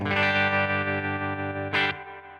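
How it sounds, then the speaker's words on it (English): Clean bass tone played through a guitar amp modeler with a tremolo effect switched on, a sustained pulsing note with rich harmonics that wavers steadily, then a brief brighter swell near the end, loud and alone. "My scene 1 is the same sound, but with the tremolo on."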